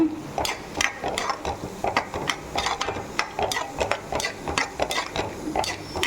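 Tomatoes and dried fish are stirred in an oily pan for thokku, giving repeated scraping and clacking strokes of a spoon against the pan at a steady rhythm over a soft sizzle.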